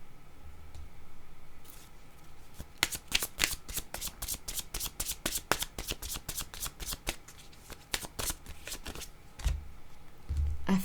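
Fortune-telling cards shuffled by hand at close range, a rapid run of crisp riffling flicks and slaps that rises into a dense burst and then tapers off, with no talking.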